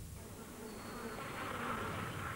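A steady, continuous buzzing of bees, droning without pause and growing slightly louder toward the end, with no voices.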